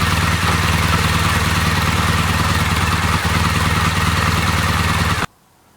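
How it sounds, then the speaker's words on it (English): A Triumph Bonneville motorcycle engine idling steadily up close, an even rumbling throb with mechanical clatter that continues unchanged before cutting off abruptly near the end. "the engine's running perfectly"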